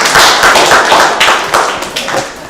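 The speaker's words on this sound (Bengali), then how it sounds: "স্যার আপনি হাততালি দেন, তোমরা সবাই হাততালি দাও" Children in a classroom clap their hands, a dense, fairly loud burst of overlapping claps that fades slightly toward the end.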